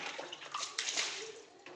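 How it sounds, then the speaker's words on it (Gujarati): Water splashes and sloshes against a bicycle being washed outdoors, with soft irregular spatters at close range, fairly quiet throughout. "હે પાણી ઉડાડોસ? આ સાયકલ ધોસ?"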